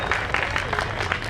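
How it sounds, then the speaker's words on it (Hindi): Steady applause from a crowd welcoming a speaker at a Rashtriya Bauddh Mahasabha gathering in Kanpur, continuous clapping throughout the short stretch. "जोरदार तालियों से आप लोग उनका स्वागत करें"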